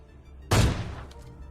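A single AWM sniper shot booms in the PUBG Lite video game, a sudden heavy blast that fades into a short rumbling tail.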